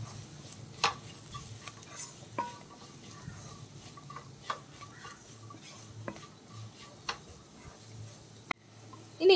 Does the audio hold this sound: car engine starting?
no